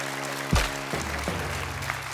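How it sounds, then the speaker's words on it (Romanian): Applause from a comedy-club audience at a stand-up and rap freestyle show, a steady wash of clapping over a low musical hum, with a loud thump near the start. "Atenție, aplauze! Aplauze!"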